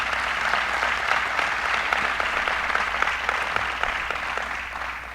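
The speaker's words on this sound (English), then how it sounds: "Let's give them both a round of applause." Audience at a governor's bill signing on Long Island applauds two county executives, loud, dense, sustained clapping from a large crowd in a room, tapering slightly toward the end.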